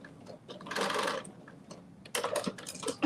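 A sewing machine stitches fabric for a fanny pack in two quick, rattling bursts separated by a short pause, close and fairly loud.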